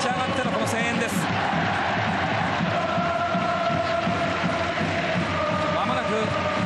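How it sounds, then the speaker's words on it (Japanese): A stadium crowd at a Japan vs Ghana football match at Komaba Stadium roars steadily on its feet, a dense, continuous cheer with commentary running over it. "もう場内は立ち上がってのこの声援です"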